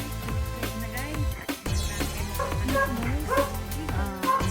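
A dog yips and barks several times in a garden among ampalaya plants, the calls close and fairly loud over a busy mix of other sound.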